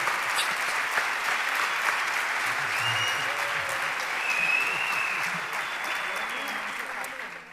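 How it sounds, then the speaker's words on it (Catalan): A large crowd at a sports awards gala applauds continuously, a steady dense patter that holds throughout with faint voices mixed beneath it. "Aquest aplaudiment és per vosaltres."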